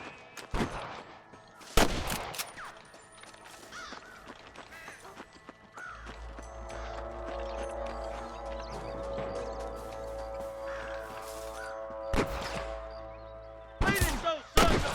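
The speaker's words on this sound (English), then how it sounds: "I can hear more gunshots." Several sharp gunshots crack out in Red Dead Redemption, spaced irregularly, with a steady low rumble and tonal music-like drone filling the middle stretch.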